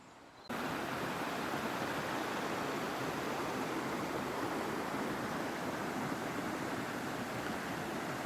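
Broadband rush of a mountain river flowing below a children's playground and sports ground at a holiday resort, steady and close, starting abruptly after a brief quiet moment and continuing without voices.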